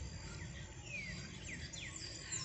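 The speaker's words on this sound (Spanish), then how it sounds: "Es un árbol de pájaros. Mire esa belleza. Todo está lleno de pájaros." Many birds chirp and call together from a single tree, a dense, continuous chorus of short overlapping tweets and rising whistles with a steady insect-like hiss beneath, moderately faint and without talk.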